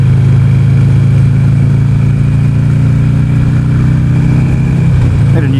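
A motorcycle with a Harley-like character, redlining at 7,000 RPM, hums steadily at high revs while being ridden, its droning engine loud and constant under heavy wind noise throughout.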